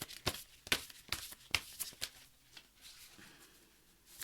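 Oracle cards being shuffled by hand, a run of crisp riffling bursts and soft slaps close by at an uneven pace, thinning into quieter rustling toward the end.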